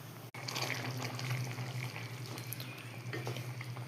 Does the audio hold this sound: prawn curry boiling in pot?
yes